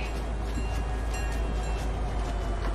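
Train in a video game, a steady loud rumble and clatter of rolling cars with faint high metallic squeals on top, continuous and close.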